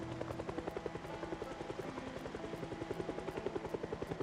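Helicopter flying overhead during an event in the Project Zomboid video game, its steady rotor chop pulsing rhythmically and fairly close, with a low engine drone underneath and no talking.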